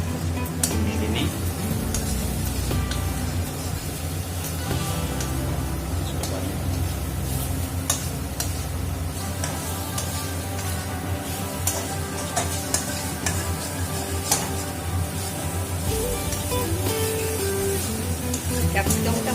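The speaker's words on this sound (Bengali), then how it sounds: "টমেটো নাড়াচাড়া করো।" Tomatoes sizzle and fry in a pan while being stirred, a dense continuous crackle with frequent utensil scrapes and clicks throughout, close and fairly loud.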